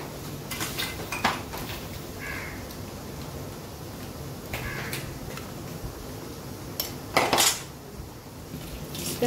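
Beaten sponge cake batter for a vanilla sponge is folded by hand in a bowl, giving soft scraping with a few sharp utensil clinks against the bowl at irregular moments, close and fairly quiet, with no talking.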